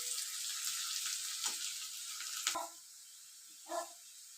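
Onions frying in a pan until browned, a steady close sizzle throughout with a few brief stirring clatters and a soft knock near the end.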